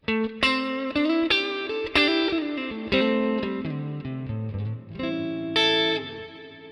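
Distorted electric guitar through a Quad Cortex amp modeler's cab block plays a short run of ringing chords and single notes, loud and close, with a touch of reverb trailing each strike.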